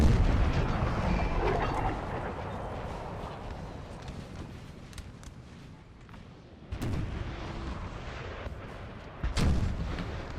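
Distant artillery salvos from a Napoleonic-era battle in Napoleon Total War, a dense rumbling barrage of booms and gunfire that swells again near the end with sharper, closer blasts.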